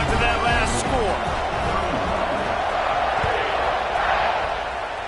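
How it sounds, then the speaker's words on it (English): A football stadium crowd roars in a steady, dense wash of noise during a close 35-31 game, with shouts and cheers layered in throughout. "this crowd is buzzing after that last score"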